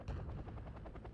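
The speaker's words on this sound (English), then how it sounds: "Oh, there's another helicopter." A Ka-27 helicopter in the Wargame: Red Dragon Korean War campaign gives a steady, pulsing rotor throb, loud and close, with sharp gunfire-like bursts mixed through it.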